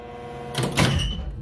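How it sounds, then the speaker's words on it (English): An elevator door slides open with a short, moderately loud mechanical rush lasting under a second, rising and then settling into a softer hum. "Door is opening."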